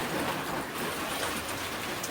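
Rain falls steadily at an outdoor sawmill on an afternoon, a dense, even patter across the whole stretch with no breaks, distinct drops or voices.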